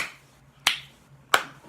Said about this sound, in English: Let's give God a hand, clap of praise for that.